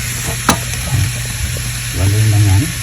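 Onion sautés in a pan with an active sizzle, broken up by a few scraping stirs, and a soft voice briefly rises near the end.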